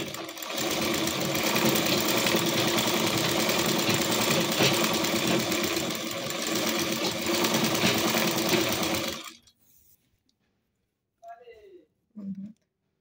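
A sewing machine hums continuously for about nine seconds while stitching the sleeve hem of a nightie, then stops, leaving near silence with a couple of faint brief sounds.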